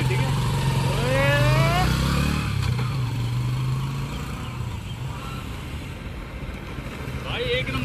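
A Bajaj CT 100 commuter motorcycle runs steadily while being ridden, its engine drone loud at first and then easing off, with some chirping sounds in the background.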